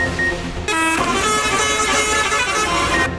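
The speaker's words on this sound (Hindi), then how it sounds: "मुख्तलिफ धुनों पर बनाए गए हॉर्न ने समा बांध दिया।" Decorated passenger buses at a bus fair in Sohawa sound horns tuned to different melodies, loud musical honking with several overlapping tones and a shift in pitch partway through.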